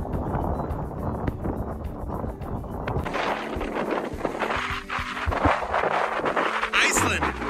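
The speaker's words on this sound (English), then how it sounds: "the wind is howling like crazy," Strong wind roars and buffets the microphone in gusty bursts, with a low rumble underneath and a voice speaking faintly through it, outdoors in Iceland with blowing snow.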